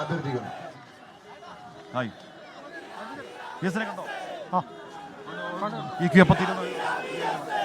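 Large crowd gathered to see VS, with shouting voices, scattered cries and chatter rising over a low murmur; several sharper yells stand out near the middle and end.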